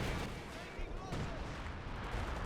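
Artillery shells slam into infantry in the Company of Heroes 2 video game, low rumbling impacts and gunfire in a thick, continuous battle din, with a voice faintly present.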